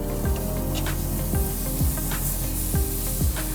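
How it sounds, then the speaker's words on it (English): Steak sizzling in a hot pan: a steady, loud frying hiss running throughout, with a few soft clinks and taps on top. "we're gonna go ahead and put our steak on there"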